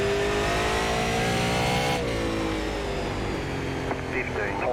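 Super Late Model race car engine in iRacing at South Boston Speedway, a loud, steady drone that holds near and constant, then dips in pitch as the car lifts off, with a faint squeal near the end.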